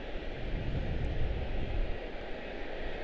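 An American Airlines Boeing 777-223 airliner, a 25-year-old airframe, at Charlotte-Douglas airport gives a steady, broad engine roar that stays at an even level throughout, heard alone at moderate distance.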